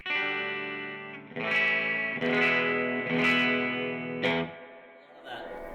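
Clean electric guitar chords ring through a Carr Mercury amp with a touch of chorus and echo, several strums sustaining and overlapping.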